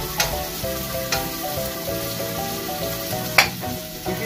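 Onion and ginger sautéing in a pan for a Filipino chicken dish, a steady close sizzle with occasional stirring clicks and scrapes, heard alone.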